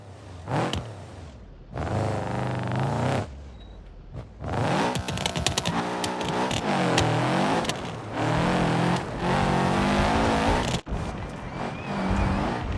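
A flat-four race car engine in BeamNG revs hard in repeated bursts, rising and falling in pitch, with sharp backfire pops crackling between pulls. It is loud and close, with no talk.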